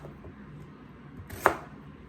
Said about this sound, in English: I peeled them, and I'm just gonna quarter or cut them into 8